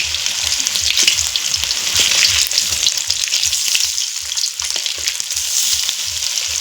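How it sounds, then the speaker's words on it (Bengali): Stuffed pointed gourd (kakrol) fries in hot oil, a loud, steady, close sizzle with bright crackling and a rhythmic pulsing from the stirring, and no voices. "এখন অপর দিকটা আমি খুব সুন্দর করে ভেজে নিব"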